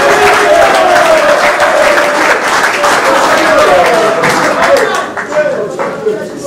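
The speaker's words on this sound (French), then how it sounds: "Applaudissez ce document parce que vous l'aurez vu." A seated audience applauds loudly and steadily at a political talk, with dense clapping filling the space, fading a little near the end while a voice carries over it.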